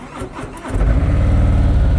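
A motorcycle engine starts up and settles into a loud, close, steady low rumble, held at slow speed under a loaded throttle.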